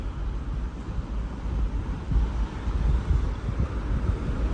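Steady north wind buffeting a boat anchored off an island, a dense low rumbling roar with gusty surges that fill the whole stretch, no voices.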